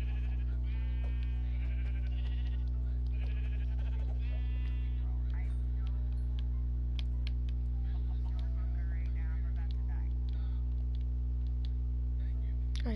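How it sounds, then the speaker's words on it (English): Repeated bleating from a pink sheep in Minecraft, a run of short wavering cries in the first few seconds and fainter ones later, all over a steady low game hum. "I see a pink sheep. I'm gonna kill the pink sheep."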